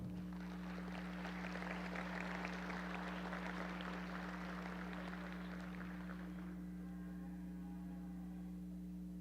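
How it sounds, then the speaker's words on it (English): An audience applauds the junior show champions and their heifers at a dairy expo, a broad wash of clapping that fades after several seconds over a strong, steady electrical hum. "I think these kids need a big round of applause"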